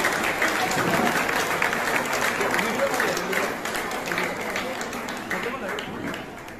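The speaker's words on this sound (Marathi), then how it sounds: "एका जोरदार टाळ्या होऊन जाऊ दे हली बरवसाठी" An audience at a 2024 women's honour award ceremony claps in a dense, loud burst of applause that tapers slightly toward the end.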